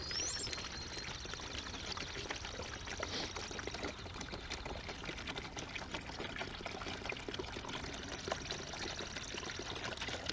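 Fresh water pours steadily into a plastic tote, a continuous splashing rush that stays fairly quiet and even for about ten seconds.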